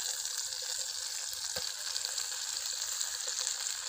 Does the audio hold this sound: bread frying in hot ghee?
yes